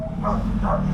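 Two quick dog barks sound from a short distance over a low motorcycle engine hum.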